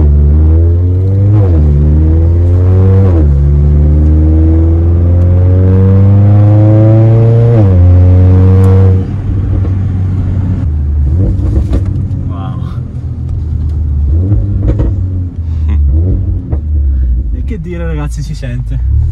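A Mercedes A45 fitted with an Armytrix aftermarket exhaust revs hard several times, its loud engine note climbing and dropping in repeated pulls, then settling into a rougher burbling rumble with crackles, recorded close by.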